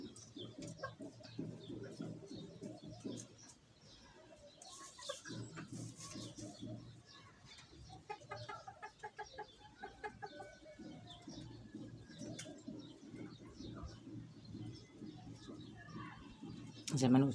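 Pigeons on a sunny rooftop coo softly and intermittently, with other bird calls and faint clucking scattered around in a quiet outdoor scene.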